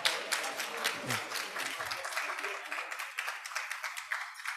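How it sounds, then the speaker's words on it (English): An audience at a conference session on regenerative aesthetics breaks into applause, a dense even clatter of many hands that holds steady throughout without voices. "Please welcome Dr. Fernando Macedo with a big round of applause"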